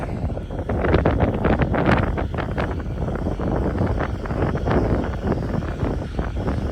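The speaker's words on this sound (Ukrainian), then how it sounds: "вітер ще все одне трохи дує" Wind gusts buffet the microphone in rough, continuous rumbling bursts during corn sowing outdoors, loud and close, with no other sounds standing out.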